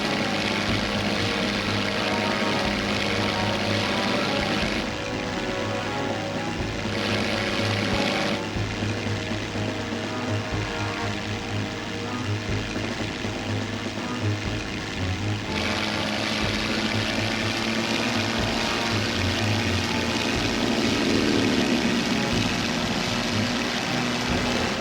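Propeller fighter aircraft engines in the Heroes of the Pacific WWII combat game, a loud, continuous droning roar that shifts in pitch and intensity throughout, with no speech.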